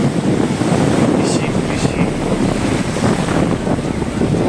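Ocean waves at Calangute Beach in Goa, a loud, continuous roar of surf mixed with heavy wind buffeting the microphone, with faint voices in the background.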